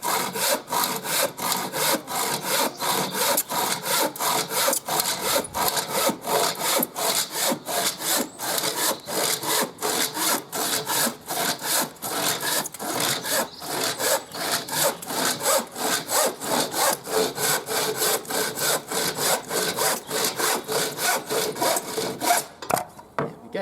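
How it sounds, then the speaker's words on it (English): Hand saw cutting through wood for a flower box, with steady rapid back-and-forth strokes that run continuously at close range and fairly loud, with no talking. "then we can start sawing"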